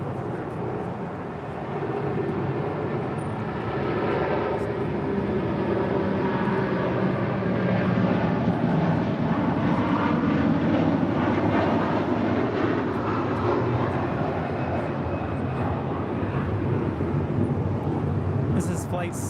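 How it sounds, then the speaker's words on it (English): An Air Canada Airbus A380, flight 788 bound for Toronto, departs LAX with a loud, steady jet engine roar that holds for the whole stretch, while voices talk faintly over it. "A380 now departing."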